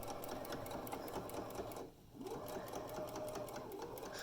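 A sewing machine stitches fabric for a drawstring bag, its steady rapid mechanical whir running close and loud, pausing briefly midway before resuming at the same even pace.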